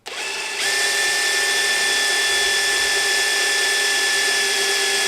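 A power drill boring into a wooden blank for a yarn bowl runs continuously after a quick start, a steady high whine with a pitch that rises once early on, close and loud, with no speech.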